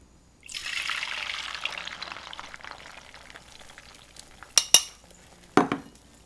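Beaten eggs for an omelet hit an oiled pan and sizzle loudly, the crackle gradually easing, followed by a few sharp clinks of a fork against the pan near the end.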